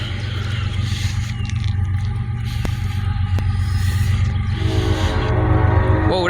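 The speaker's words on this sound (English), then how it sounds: "Whoa, that's a good horn" A freight train horn blowing in Bunkie, Louisiana, a loud, sustained multi-tone blast over a heavy rolling rumble and scraping, rising slightly toward the end with no talking.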